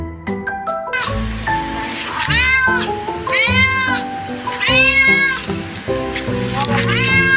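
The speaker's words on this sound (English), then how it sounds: "C for cat." A cat meows repeatedly, loud and close, with rising drawn-out cries at regular intervals over a bright musical backing with chiming tones from a children's phonics song.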